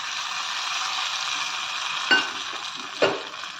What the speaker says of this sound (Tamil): கடுகு கொஞ்சம் போட்டு தாளித்து இதில் கொட்டிடும்.